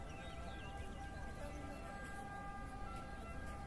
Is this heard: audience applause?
no